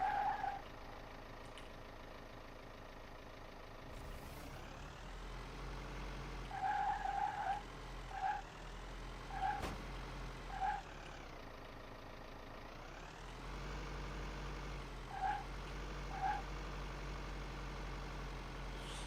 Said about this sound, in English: the truck sounds like a lawnmower